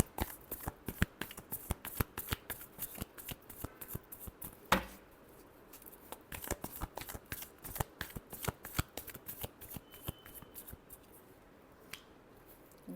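Tarot cards shuffled by hand at close range, crisp rapid riffling flutters in repeated bursts with short pauses between them.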